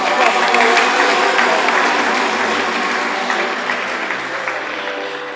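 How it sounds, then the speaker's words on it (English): Loud, sustained applause from a large audience at a formal gathering, dense clapping from many hands filling the room and slowly tapering off toward the end, with no speech over it. "another round of applause. Let's give it to him."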